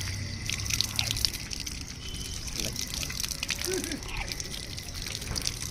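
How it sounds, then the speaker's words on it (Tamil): Cold water runs steadily from an opened tap at the hilltop Sri Venkateswara Swamy temple in Jubilee Hills, Hyderabad, a continuous close splashing rush with faint background sounds. "டேப் ஓப்பன் பண்ணி"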